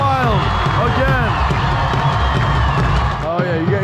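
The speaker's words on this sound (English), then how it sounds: "The crowd goes wild again." A big crowd at the India-Pakistan border ceremony roars with cheers, whoops and clapping, loud and continuous, with rising shouted calls swelling through the din.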